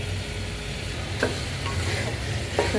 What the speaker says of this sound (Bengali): কষিয়ে তারপর ভালো করে কষিয়ে নেব।